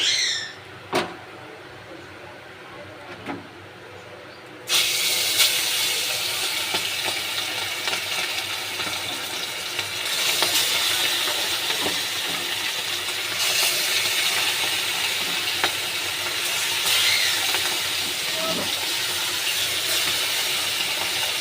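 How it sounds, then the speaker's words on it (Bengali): Satin fish pieces drop one by one into hot oil in a wok, setting off a loud, steady frying hiss and sizzle that swells in stages and continues close by. "কড়াইতে তেলটা আমি দিয়ে দিয়েছি, তেলটা গরম হয়ে গেছে। এবার আমি এক এক করে মাছগুলো ছেড়ে দেব।"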